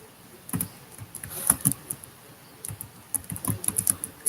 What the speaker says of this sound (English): I'm just going to type something